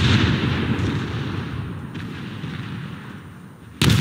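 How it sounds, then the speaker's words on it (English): The cruiser Leipzig firing armor-piercing shells in War Thunder, a heavy booming salvo with a long rolling decay and a second loud blast near the end. "you're close enough now that I could start using piercing shots"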